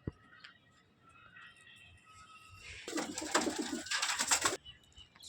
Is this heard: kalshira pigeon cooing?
yes